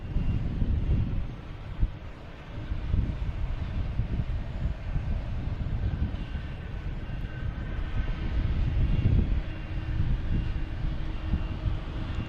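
A Spirit Airlines airliner arriving at Boston Logan Airport gives a continuous low jet roar that stays fairly steady and is mixed with gusty wind buffeting the microphone.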